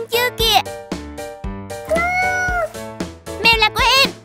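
A cat meows several times in a children's cartoon scene, the calls mixed in with bright music and a child's excited speech throughout.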